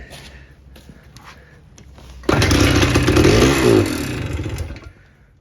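A 1973 Harley-Davidson X90 Aermacchi motorcycle engine fires up after a couple of seconds of quiet shuffling. It runs loud and rough with a rising rev, then drops back toward a lower idle near the end.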